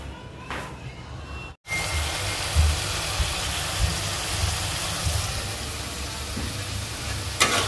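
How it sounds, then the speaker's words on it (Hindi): Steady sizzling and crackling of spices frying in a hot pan, continuous and close, with occasional stirring scrapes. "मसाले भूनने की आवाज़ आ रही है"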